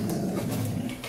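A dog growls low and steadily at another dog, a rough continuous rumble lasting about a second, close by with no speech over it.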